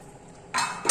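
A metal lid lifts off a pot of simmering mackerel curry with a clink of metal against the rim, a short close clatter after a quiet stretch and a second sharper clink at the end.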